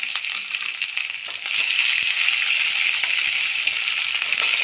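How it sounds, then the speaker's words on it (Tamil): Shallots for a vegetable chutney sauté in a pan with a steady, close hiss of frying that swells louder after the first second and holds continuously. "சின்ன வெங்காயம் நல்லா வதங்கிட்டோம்"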